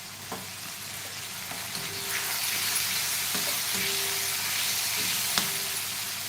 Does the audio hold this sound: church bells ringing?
no